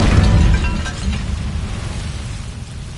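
Incendio fire spell cast in the game Hogwarts Legacy, a loud, close whooshing burst of flame that roars at the start and then settles into a rumbling, crackling decay.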